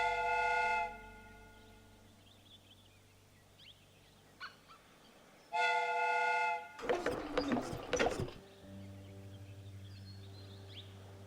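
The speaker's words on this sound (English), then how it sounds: "The steam whistle is ready to be used." A steam whistle on a replica train in a Sherlock Holmes detective game sounds twice as sustained tonal blasts about five seconds apart, with a burst of clattering mechanical noise after the second one and a low hum beneath.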